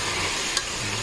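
Filipino adobo with a little fish sauce being stirred in a hot pan, a brief close sizzle with a single spatula scrape in the middle.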